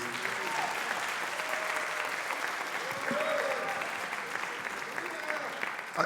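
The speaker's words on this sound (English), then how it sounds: "a round of applause one more time" Sustained applause from a crowd, steady clapping throughout, with some voices faintly heard underneath.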